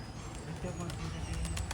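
Soft pigeon coos murmur through a steady outdoor background on a large farm in Punjab with some faint chatter, the calls low and blended rather than sharply distinct.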